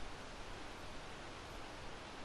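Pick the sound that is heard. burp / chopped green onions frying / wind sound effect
wind sound effect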